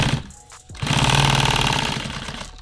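Sewing machine running a continuous stitch through a nylon double hem, a steady loud mechanical whir that starts after a brief pause and holds for a couple of seconds.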